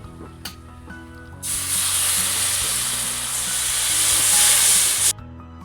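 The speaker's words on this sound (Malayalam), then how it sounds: "ഇതിലേക്ക് വിനേഗർ ഒഴിച്ച് കൊടുക്കാം" Vinegar poured into lemon pickle makes a loud, steady hissing splash that runs for about four seconds, then cuts off abruptly, close by with no talking.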